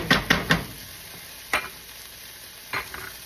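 Vegetables and cooked tomatoes stirred in a pan with little oil, a few loud spoon scrapes and knocks in a quick cluster, then single strokes spaced apart over a faint sizzle.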